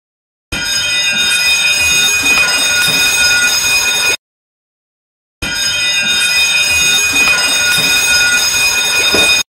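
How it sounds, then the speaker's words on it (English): A ship's electric bell rings a man overboard alarm: two long, loud, harsh buzzing rings separated by a short silence, close and alone. "3 long rings on ship's electric bell"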